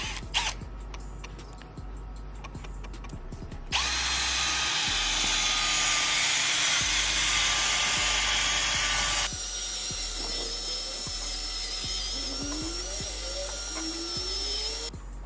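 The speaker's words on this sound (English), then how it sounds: "A little bit more buffing" A high-pitched power drill whirs steadily up close buffing a headlight with compound, its whine shifting in pitch, with occasional clicks and a change in tone partway through.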